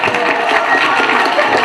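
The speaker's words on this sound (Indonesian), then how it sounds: "Tepuk tangan." Dense applause rises from an audience at a Quran recitation and hadith memorization event at an Islamic boarding school in Lombok, a loud, steady wash of clapping throughout.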